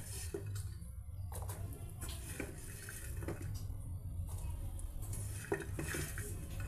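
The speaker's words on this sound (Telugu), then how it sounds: "ఈ మరుగుతున్న వాటర్లో ఇక ఈ ఫ్లవర్స్ని ఈ ఫ్లవర్ పీసెస్ని ఈ విధంగా ఆ బాయిల్డ్ వాటర్లో యాడ్ చేసేద్దామండి" Cauliflower florets tipped into a pot of boiling water with turmeric, giving light clinks and clatter against the pot over a steady low bubbling rumble, close and moderately quiet.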